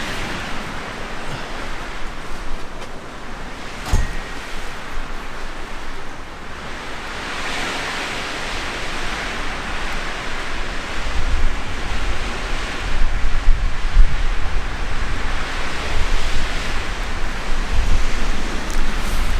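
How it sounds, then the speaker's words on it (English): Strong wind roars outdoors during Storm Ciara as a loud, continuous broadband rush that rises and falls in gusts and buffets the microphone, with no talk. "So as you can see, it's really quite windy."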